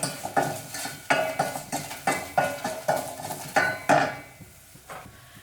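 A spoon stirs chili powder and asafoetida into pepper rasam in a metal pot, scraping and clinking in a steady rhythm of about nine strokes before it stops, close and moderately loud with no voices.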